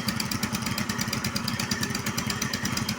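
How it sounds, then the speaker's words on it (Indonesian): Engine of a well-drilling rig running steadily during drilling, a loud, continuous rhythmic chugging with clatter, close by and alone without talk. "proses ngebor"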